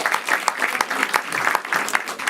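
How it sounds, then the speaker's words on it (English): A small audience at a live comedy show claps for several seconds, a moderately close, lively patter of hands with uneven bursts and no voices over it. "Clap for yourselves, fellas."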